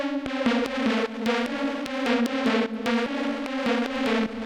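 Sawtooth supersaw synth in unison, made in Ableton for industrial techno and pushed through an amp pedal for heavy distortion: a loud, steady buzzing chord chopped by sharp rhythmic hits, continuous with no talk.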